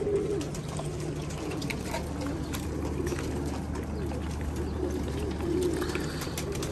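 Pigeons coo softly on a rooftop, their low rolling calls repeating at a moderate distance over a steady background hum, with no talking.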